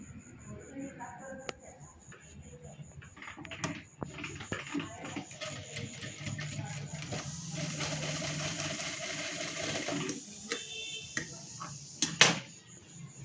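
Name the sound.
sewing machine stitching blouse sleeve seam at half inch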